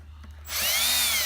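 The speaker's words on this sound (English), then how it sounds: "Now you can take them out with a power drill" A power drill backs screws out of a Clearstream CS103EL antenna during a rebuild: quiet handling noises, then a sudden loud, whining motor spin that ramps up and holds close to the microphone.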